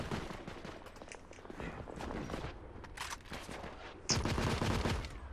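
Rapid bursts of mounted-gun fire in The Order: 1886, crackling in dense strings with brief pauses and a louder, heavier barrage near the end, with no talk over it.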